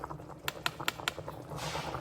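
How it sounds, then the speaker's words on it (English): Water, milk and flour (half a cup each of water and milk, two tablespoons of flour) are whisked together in a bowl, giving a quick series of sharp, evenly spaced clicks and scrapes over a soft background wash. "Whisk that up together."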